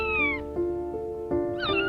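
A cartoon kitten meows several times in quick succession, clear, close and high-pitched, with no talking.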